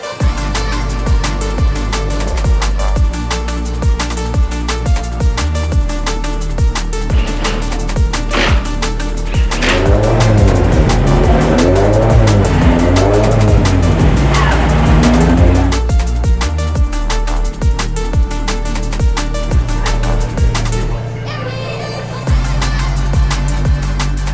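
Subaru BRZ time attack car lapping a race track on an overcast day, its engine droning loud and close throughout with rising and falling revs through gear changes and corners, and a brief drop near the end.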